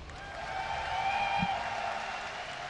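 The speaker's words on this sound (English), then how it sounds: "give a cheer for Grubby" A tournament crowd at the IEM Gamescom StarCraft 2 event cheers and applauds in a steady, roomy roar that swells slightly midway and holds at moderate loudness throughout.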